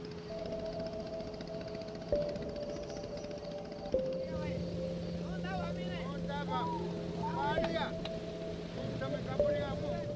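A boat's engine drones steadily on a river in the Amazon, a low continuous hum close by while people talk over it.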